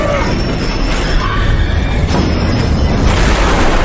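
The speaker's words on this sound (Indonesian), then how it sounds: "Lift itu pun meluncur jatuh dengan Alpha dan Samsul yang masih berada di dalam sana" Elevator in a film plunging down its shaft and crashing, a loud, dense roar of rumbling impact and grinding debris that stays heavy and continuous throughout, with faint voices mixed underneath.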